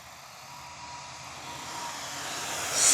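An FMS F7F Tigercat twin-engine RC model airplane, 1700mm wingspan, flies at full throttle, its motors a distant steady drone that swells louder as it passes closer.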